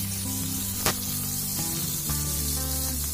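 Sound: fish deep frying in oil, Chettinad style fish fry

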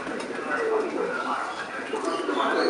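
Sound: pigeons cooing

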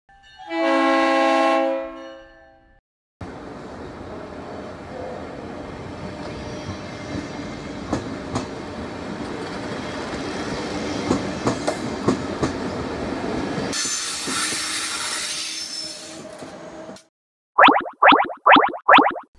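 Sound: double-decker train

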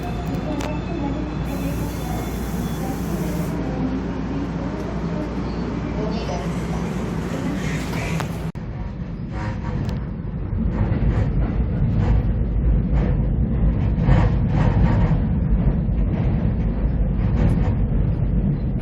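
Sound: express train arriving at station

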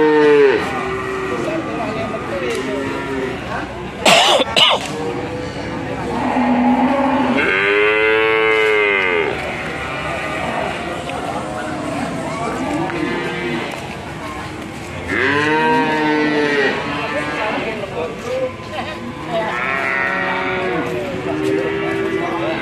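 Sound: cattle mooing at a livestock market

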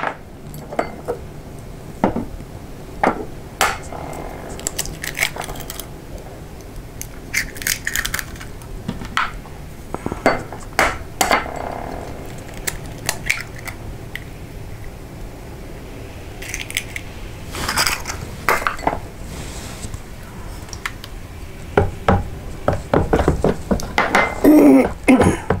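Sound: cracking and adding two large eggs to banana bread batter

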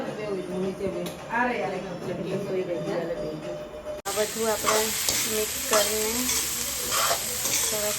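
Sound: potato mixture being stirred and cooked in a pan

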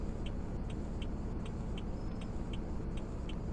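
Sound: car driving in Roblox Greenville video game

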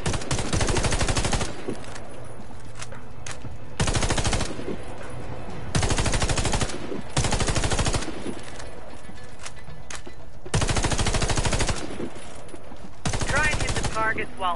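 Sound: gunfire shooting at targets in a video game tutorial

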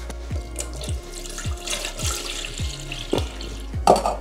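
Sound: water being poured into a cat water fountain

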